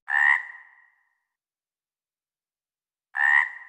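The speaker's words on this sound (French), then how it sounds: "Grenouille" A frog croaks twice, each a single loud, close, raspy call separated by about three seconds of silence.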